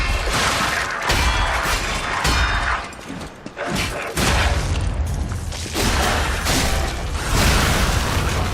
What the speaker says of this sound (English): exploding doll